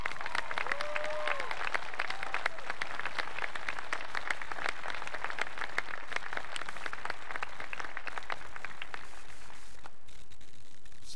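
At a college commencement, the audience applauds the graduates in a long, steady stretch of crackling claps that fades near the end, with faint voices at the start.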